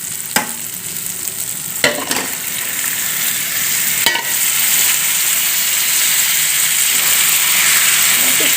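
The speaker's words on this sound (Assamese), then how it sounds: "চিকেনখিনি দি ভালকৈ লৰাই অলপ ফ্ৰাই হ'ব দিব লাগিব।" Chicken pieces hit hot oil with fried onion and spice masala and are stirred, giving a loud, steady close sizzle with a few sharp spoon knocks against the pan early on, no voices.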